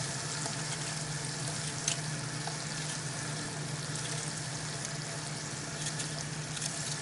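Spinach frying in olive oil and butter gives a steady, even sizzle throughout at moderate level, with a faint tap or clink partway through.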